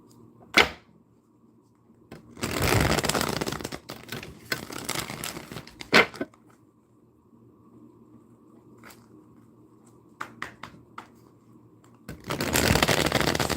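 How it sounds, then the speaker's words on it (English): Tarot cards are shuffled in several separate bursts of dense riffling and flapping, close to the listener, with quiet pauses and a few sharp taps between them. "I love to shuffle my cards up a little longer so that I can get a better reading"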